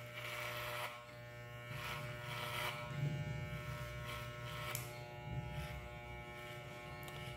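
Electric hair clipper buzzing steadily up close as it cuts hair diagonally on the side of the head during a barbershop haircut, a continuous whining hum with slight shifts as it moves, no talking.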